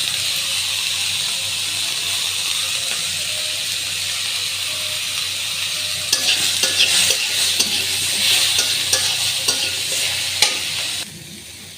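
Onions frying in oil for bhuna khichuri, a steady loud sizzle with scraping stirs that grow busier and more clattery toward the end, close up with no talking.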